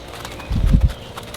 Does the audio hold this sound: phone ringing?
no